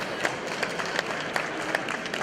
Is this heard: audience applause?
yes